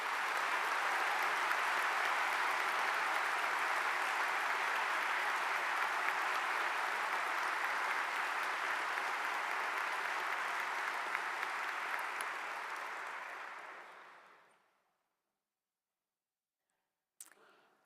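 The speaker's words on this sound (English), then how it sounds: "I invite all of you to recognize these outstanding students and young alums with your applause." A large audience at an honors convocation gives sustained, even applause for students and young alumni, a dense wash of clapping that holds steady for about fourteen seconds before fading out to silence.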